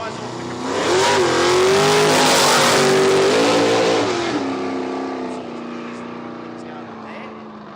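Radial-tyre drag race cars accelerate hard down the strip at Willowbank, Australia, a loud engine roar that swells over the first few seconds, then fades as the cars pull away, with a commentator talking over it.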